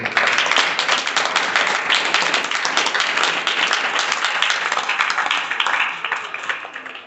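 A room of students applauds loudly at the start of a class, with dense, continuous clapping that holds steady for several seconds before thinning slightly at the end.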